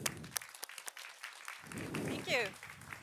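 Scattered claps from a small audience at a talk on sustainability come in a brief, thin burst and die out, then a person starts speaking.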